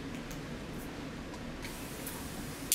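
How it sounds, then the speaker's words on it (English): Soft, faint hissing of a spray bottle misting water near a pet bird's carrier, a few brief puffs over quiet background noise. "I'm going to demonstrate spraying over here"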